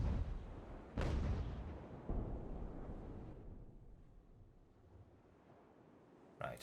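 Naval cannon fire from sailing warships in Ultimate Admiral: Age of Sail, a few heavy booming shots with rolling rumble that fades between blasts, the last one more distant.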